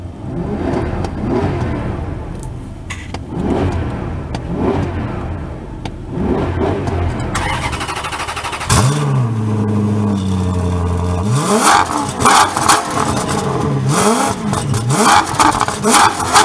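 Maserati Quattroporte Executive GT engine revving, repeated rises and falls in pitch, then a strong sustained acceleration with a deep, loud growl and whirring, heard close from inside or behind the car.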